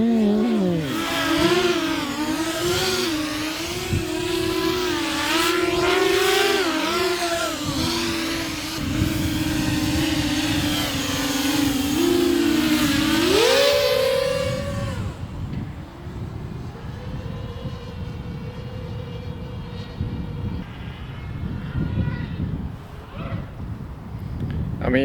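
An FPV drone with unusual propellers flying, a loud buzzing whine that rises and falls as the throttle changes, then cuts to a quieter, lower drone with wind rumble over the second half.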